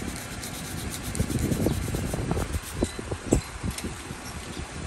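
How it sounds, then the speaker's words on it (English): Sandpaper rubs steadily over curb-rashed alloy on a Honda Civic wheel, a close, continuous gritty scraping with uneven strokes that runs for the whole stretch. "Sand it down until it's smooth."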